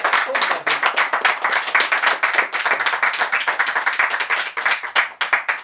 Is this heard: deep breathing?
no